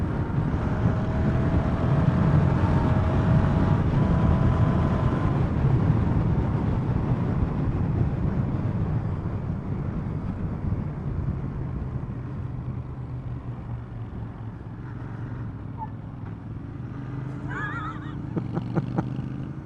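Royal Enfield Continental GT motorcycle engine rumbling steadily while riding along country village roads, a loud, continuous low throb with wind noise that eases slightly toward the end.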